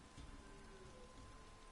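Rain falls in the video game The Witcher 3, a steady, dense hiss of drops with no break, faint and evenly spread throughout.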